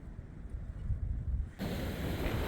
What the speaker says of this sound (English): today the winds are extremely windy out